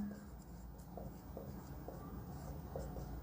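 Chalk or marker scratching across a classroom board while a trigonometry problem is worked out, a steady run of short rubbing strokes with small taps, fairly close, over a low room hum and no talking.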